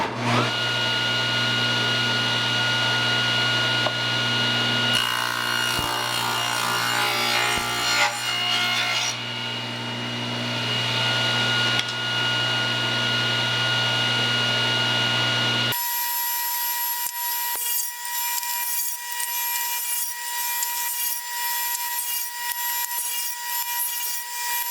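Wood pieces for a trivet being cut with a power saw, a loud continuous whine and rasp with a shift partway through to a higher, thinner tone as cutting continues.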